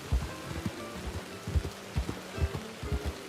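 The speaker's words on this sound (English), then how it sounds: "Also, these are big, heavy raindrops." Heavy rain with big raindrops falling in a video game, a steady close patter with regular low thudding drops and no voices.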